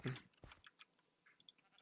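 Sheep bleating in the blocky survival game Jurassic Craft during a breeding moment, a short synthetic bleat near the start followed by a few faint clicks and ticks.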